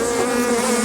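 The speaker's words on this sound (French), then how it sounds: "le noir attire les abeilles" Honeybees swarm around microphones at a beekeeping apiary in Touraine, making a loud, continuous close-up buzzing drone with no pauses.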